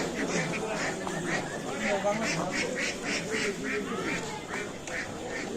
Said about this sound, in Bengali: কি হয়েছে হাঁসের মধ্যে এত বিড়াবিড়ি কে?